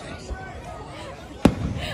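Fireworks over the Busch Gardens theme park at night, a single sharp boom bursting out over a low murmur of crowd and voices, played without music.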